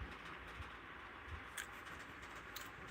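Pigeons cooing nearby in an outdoor spot in Nottinghamshire, a few soft low coos rising over steady background ambience with light rustling and no talk.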